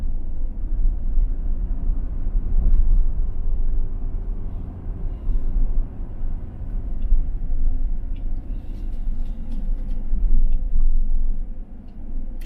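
A car rolls steadily along a smooth residential road, a continuous low rumble of tyres and engine heard from inside the cabin with no one speaking.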